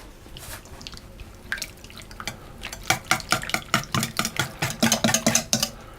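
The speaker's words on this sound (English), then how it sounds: "I'm going to just whisk those together to get them all incorporated." Muffin batter with lemon zest whisked in a bowl, starting with a few slow strokes, then building to fast, rhythmic clinking and sloshing beats, close and fairly loud, with no voices.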